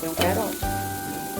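Carrot sizzling in hot cooking oil in an unwashed pan while beef dishes are being cooked, a burst of frying hiss as it hits the oil followed by a steady sizzle with a few soft stirring scrapes.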